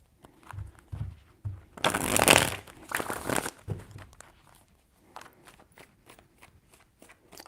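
A deck of tarot cards is shuffled by hand, with a couple of bursts of riffling and rustling in the middle, framed by soft taps and handling noises nearby and no speech.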